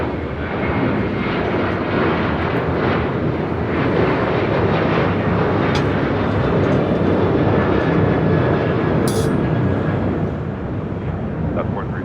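A FedEx jet departs from runway 25 right at LAX, a loud, continuous engine roar sustained across twelve seconds with steady rumble, a few brief higher tones riding over it.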